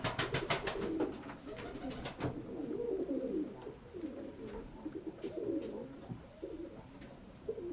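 Pigeons from a breeder's flock coo steadily through the clip in repeated soft, rounded calls, with several sharp clicks or taps near the start and a couple of brief high chirps later.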